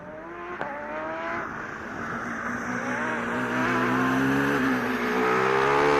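A Formula Student race car on an autocross lap at Formula Student Germany 2015, its engine note climbing and falling through gear changes as it passes, a continuous loud revving whine with no talk.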